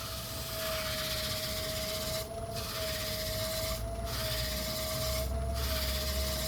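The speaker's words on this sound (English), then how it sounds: "I'll keep the lathe spinning, just keep rubbing it with a cloth, and it'll dry itself out." Cloth rubbing a wood finish on an old turned blank spinning on a lathe, a steady continuous rasping hiss over the motor's constant whine, with three brief lifts of the cloth breaking the sound.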